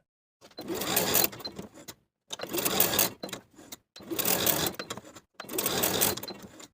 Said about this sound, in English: Sew basting stitches along both short ends of both straps